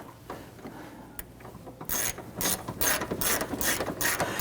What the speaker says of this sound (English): Now I'm just going to run these in with my hand ratchet.